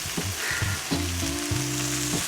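Chicken massaman curry with cashews being stirred in a pan on a stove, a steady close sizzle with scraping and low humming tones underneath.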